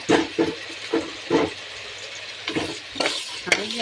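Chicken sizzles in a hot pan while a spoon stirs and scrapes it several times, close and uneven in rhythm.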